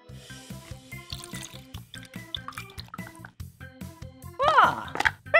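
A quarter cup of water is poured through a funnel into a balloon, giving quick rhythmic drips and gurgling trickles close up, ending in a louder splashy burst of filling liquid.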